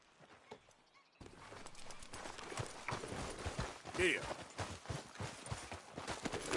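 Horse hooves clop in a steady walking rhythm in Red Dead Online, moderately close, beneath talking voices, with a brief whinny midway and game music in the background.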